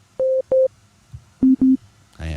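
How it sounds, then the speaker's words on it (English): Pure sine tones from the Sytrus synthesizer in FL Studio play as four short steady beeps, two at a higher pitch followed by two lower, each clean and loud with brief gaps between. "I have it playing here. You can see the wave. As you see, we have a sine wave."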